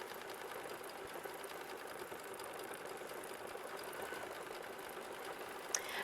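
Sewing machine stitching quilted butterflies in purple thread, a fast, even mechanical whir of needle strokes running steadily and fairly softly from start to finish.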